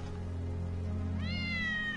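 A cat meows in Final Fantasy VII Remake, a single drawn-out, rising-then-falling mew entering partway through over a steady low game hum, close and clear.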